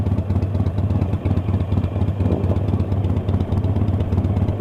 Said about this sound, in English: it was just a constant parade of motorcycles